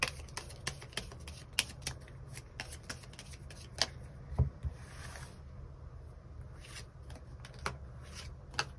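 Tarot cards are shuffled and drawn in a quiet room, giving soft, papery riffling with frequent crisp flicks and taps close by, continuous throughout.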